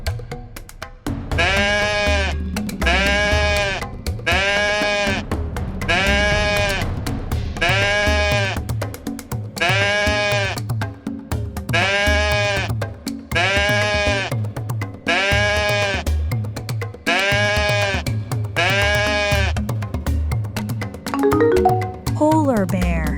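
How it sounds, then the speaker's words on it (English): A goat bleats in a long run of about ten evenly spaced, wavering cries, loud and close, each call separated by short gaps over a steady background bed. "goat,"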